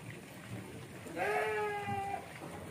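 A goat bought for a qurban sacrifice bleats once, a wavering, drawn-out cry lasting about a second, heard fairly clearly over quiet outdoor background noise with faint voices.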